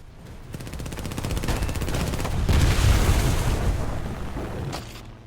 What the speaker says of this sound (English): the thousands of rounds of 30 cal flying around their cockpit